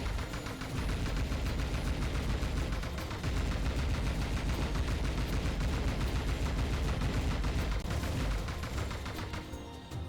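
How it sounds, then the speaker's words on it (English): Dense, continuous gunfire from Panzer Dragoon Remake on Switch, rapid shots and blasts layered over game music, loud and unbroken for the whole stretch, no speech. "Just keep shooting the rings."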